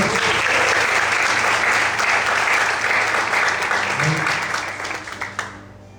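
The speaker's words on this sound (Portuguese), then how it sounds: "Você pode aplaudir o Senhor nesta manhã." A church congregation applauds during a morning service, with loud steady clapping that gradually thins out and ends in a few scattered last claps.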